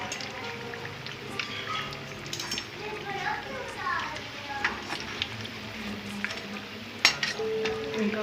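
Potato pakoras frying in hot oil in a kadhai: a steady soft sizzle with occasional spatters and utensil clinks, while someone talks over it.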